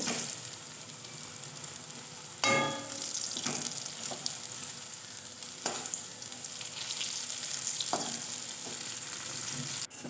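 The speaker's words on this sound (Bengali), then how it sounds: "সম্পূর্ণ নিরামিষিভাবে আমি বড়াগুলো ভেজে নিলাম মুচমুচে করে" Spicy vegetarian fritters (bora) frying crisp in hot oil, a steady sizzle with sharp bursts and spatters as pieces are stirred and turned, close and alone with no talk.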